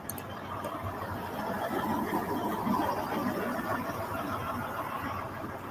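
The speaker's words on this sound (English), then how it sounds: "Hey, that engine sounds real good." A truck engine idles steadily with a low, continuous rumble that holds an even level throughout, close to the microphone and with no talk over it.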